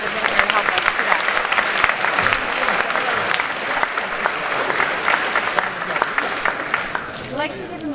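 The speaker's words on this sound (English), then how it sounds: "I'd like to give one last round of applause for all of the students and all of the teachers and the families" Applause at a high school academic awards ceremony for students, teachers and families: a steady, fairly loud wash of many hands clapping throughout, with a voice faintly audible near the end.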